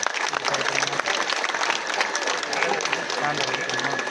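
Audience applause fills a packed hall at a book festival event in Theni, steady and dense throughout as a singer is welcomed to the stage, with a few voices mixed into the clapping.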